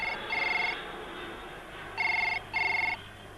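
A telephone rings in short electronic bursts: one ring, a pause, then two rings in quick succession, clear against a quiet background hum.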